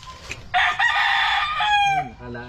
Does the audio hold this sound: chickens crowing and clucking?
yes